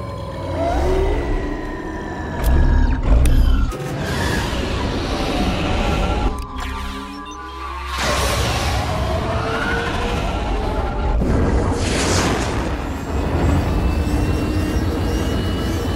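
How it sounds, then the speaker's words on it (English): Roaring podracer engines start up and rev with whining, rising pitches and rattling bursts, loud and close, layered with a busy mechanical din. "Start your engines!"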